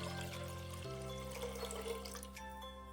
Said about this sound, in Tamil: எந்த சட்டியில நீங்க சாம்பார் செய்ய போறீங்களோ அதுல பாதி அளவுக்கு நீங்க தண்ணி சேர்த்துக்கோங்க.